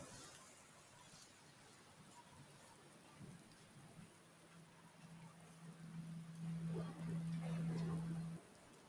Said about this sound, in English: It's a good thing I never get bored of rain